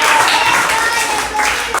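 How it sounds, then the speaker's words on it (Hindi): A roomful of students claps together in a quick burst of applause during a classroom math quiz, dense and close, cutting off abruptly near the end. "प्रियांशु कुमार के लिए एक ताली होना चाहिए।"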